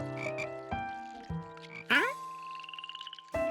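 Cartoon frogs croak in a lake scene, a run of pitched, bubbly croaks with a rising sweep and a rapid trilling pulse near the end, fairly close and clear with a musical backing.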